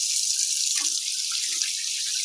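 Water gushes steadily from a tap fed by a water pump and pressure tank, a loud constant hiss with no talk.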